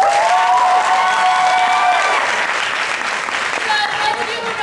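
Theatre audience applause before a Shakespeare show, dense clapping with a few cheers and whistles, loud and sustained, with voices mixed in underneath.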